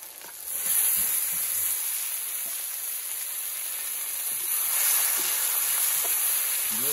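Sliced potatoes fry in a pan of hot oil for a shoal fish recipe, giving a steady, close, bright sizzle that swells slightly near the start and again later, with no one speaking.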